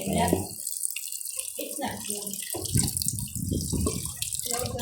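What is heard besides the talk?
water being added to pork for cooking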